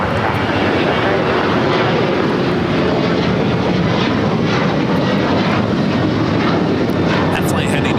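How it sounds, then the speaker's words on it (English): A United Airlines Boeing 737-900ER at LAX produces a loud, steady jet engine roar that fills the whole clip, with talk partly audible underneath. "United Airlines flight 2377, 737-900ER"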